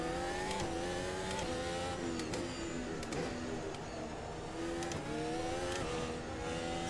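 An F1 race car in a video game set at Estoril, Portugal, a steady loud engine whine with shifting pitch and gear changes, another lapped car passing close through the run.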